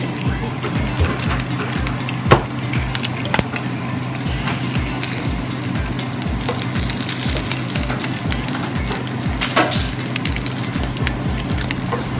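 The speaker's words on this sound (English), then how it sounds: "And the bacon is cooking." Bacon strips sizzle and crackle in a pan, a continuous close frying hiss with scattered pops and a low kitchen hum underneath.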